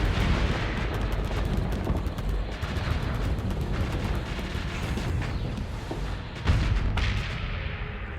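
Missile launches and explosions in the space combat game Starsector, a dense, continuous roar of booms and blasts layered over one another, loud and unbroken, with a heavier impact near the end.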